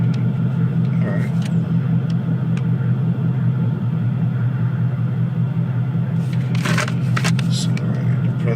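A Ford Mustang GT idles nearby with a steady low engine rumble throughout, while someone talks over it and a few short clicks and knocks sound near the end.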